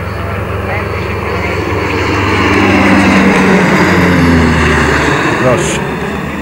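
A propeller airplane with new engines drones steadily at an aero club anniversary event in Mielec, a loud engine hum with a slowly shifting pitch, as if passing near.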